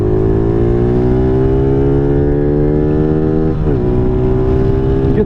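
A Venom SS3 / KP mini 150 motorcycle pulls away from a dead stop. Its loud, close engine drones with a steadily climbing pitch, then briefly dips as it shifts gear before pulling on.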